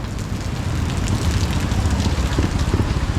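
Steady hiss of rain falling, a dense, continuous patter that grows slightly louder partway through, close and fairly loud.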